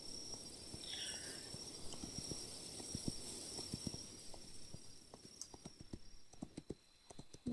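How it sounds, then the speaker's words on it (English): Hooves of a slow horse in Kingdom Two Crowns clop in a steady walking rhythm, soft and close, over a faint sustained tonal game ambience with no talk. "My horse is so slow"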